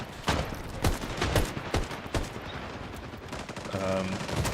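Bursts of gunfire and artillery blasts in a Cold War-era multiplayer shooter video game, several sharp loud shots spaced irregularly, followed by a sustained rumbling tone near the end.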